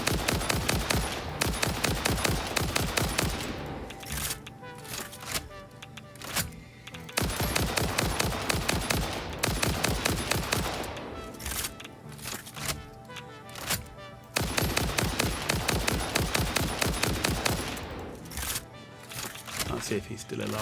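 Automatic gunfire from a weapon in the factory-building video game Satisfactory, loud rapid bursts of shots a few seconds long separated by short pauses, repeating throughout, with a voice talking at times.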